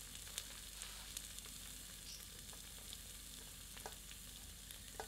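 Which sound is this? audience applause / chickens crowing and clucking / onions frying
onions frying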